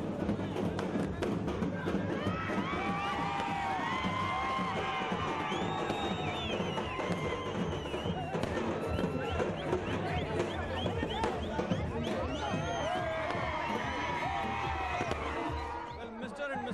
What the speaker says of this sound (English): Huge crowds flocked in from all directions just to catch one glimpse of the contender and their star